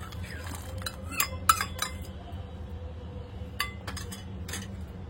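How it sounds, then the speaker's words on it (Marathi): Fried cashews and raisins drop into a pan of boiling milk for rice kheer, producing a few faint clinks and light splashes over a steady low bubbling hum. "दुधाला उकळी आलेली आहे आणि त्यात मी आता तळून काढलेले काजू मनुका टाकत आहे।"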